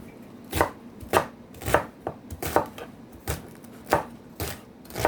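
Knife chopping leeks on a cutting board for homemade vegetable bouillon, about ten sharp, close thuds in an uneven rhythm with no talking.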